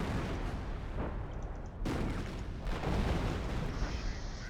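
Artillery fire from 25-pounders and Priest self-propelled guns in Company of Heroes, heavy booming blasts, one sharp loud report near the middle among a steady roar of distant battle noise.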